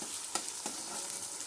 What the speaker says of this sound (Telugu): పచ్చివాసన పోయే వరకు ఇది ఫ్రై చేసుకున్నాము ఒక 2 మినిట్స్